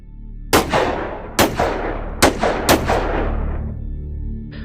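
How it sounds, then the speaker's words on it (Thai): Four sharp, loud gunshots ring out in uneven succession, each echoing and trailing off before the next. "ก็เกิดเสียงปืนดังขึ้นจากจุดที่หนึ่งที่สองและที่สามหลายนัด"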